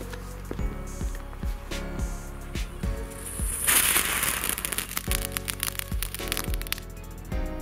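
A blue firework burns with a crackling, fizzing sound that builds to a bright hissing flare midway, with scattered sharp pops and cracks throughout, close and fairly loud.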